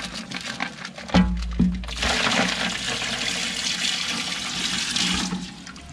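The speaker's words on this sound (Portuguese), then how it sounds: "Vou botar água." Water pours into a home fish aquarium, a short splash and a couple of thumps giving way to a steady rushing gush that runs for several seconds before easing off, with no voices.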